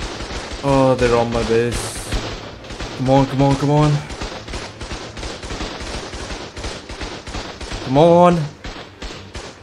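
Automated turrets in the game ARK fire in rapid repeated bursts at raiders attacking a solo island base, a steady crackle of gunfire running throughout while someone talks over it.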